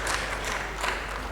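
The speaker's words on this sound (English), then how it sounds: "Round of applause." Applause from attendees at a PocketQube satellite workshop, a continuous moderate clapping from a modest crowd, fairly distant and even throughout the short stretch.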